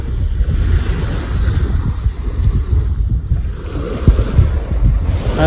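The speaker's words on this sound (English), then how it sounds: "Look at all this water." Lake water waves wash near the shore at South Lake Tahoe in cold weather, a continuous rumbling surge with heavy wind buffeting the microphone throughout.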